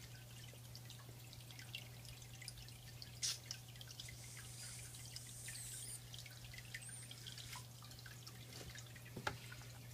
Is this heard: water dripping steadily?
yes